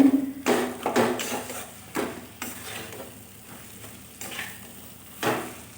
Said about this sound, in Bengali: এবারে সুন্দর করে আলুটাকে আমি ভাজা ভাজা করে শুকনো শুকনো ডো বানিয়ে নেব